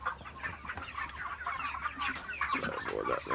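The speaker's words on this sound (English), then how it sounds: "Let me show the baby chickens." Chickens on a Jamaican chicken farm cluck and chatter near the listener, a busy overlapping flock with soft bursts of calls and no talking.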